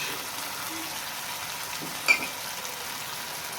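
Garlic-ginger paste, tomato paste and green chili frying with browned onions in a karahi for a chicken wing and potato dish, giving a steady low sizzle and one brief clink of a spoon.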